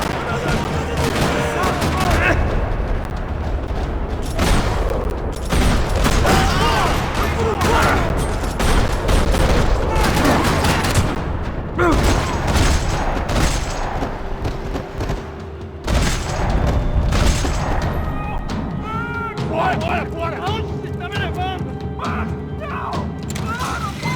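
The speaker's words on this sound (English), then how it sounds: "Another parking lot rattling with gunfire." Intense video-game gunfire in a parking lot from Max Payne 3, with dense rattling bursts, automatic fire and heavy impacts continuing loudly almost without pause, mixed with crashes and mechanical clatter.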